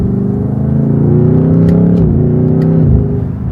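A 2024 BMW XM Label Red, a heavy performance SUV, rumbles steadily from close by while driving, its deep exhaust note swelling slightly and then easing off.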